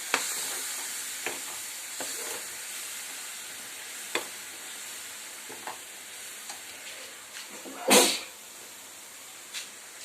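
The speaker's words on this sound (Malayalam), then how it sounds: "ഇതിലേക്ക് നമ്മൾ ചെറുക്ക ചേർത്തിട്ടുണ്ട് ഇത് നന്നായിട്ട് ഇളക്കി കൊടുക്കും" Anchovy pickle mixture with vinegar sizzling in a pan, a steady close frying hiss broken by intermittent scrapes and taps of stirring, with one louder clatter near the end and no talking.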